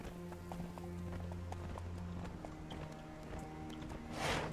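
Horse hooves in the game Conan Exiles beat a steady, quick clip-clop of a gallop, close and fairly loud over low ambient rumble, with a whooshing swell near the end.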